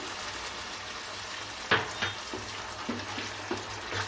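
Tomato pulp frying with ginger garlic paste in a pan gives a steady close sizzle, broken by a few stirring scrapes and small clatters near the middle and end. No one speaks.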